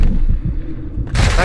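A single sharp gunshot in Call of Duty Modern Warfare 2 cracks out loudly near the end, after a low rumbling stretch of in-game ambience.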